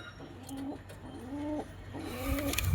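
Healthy domestic pigeons cooing, three rising-and-falling coos in a steady rhythm, close and clear over a low background hum, with no talk.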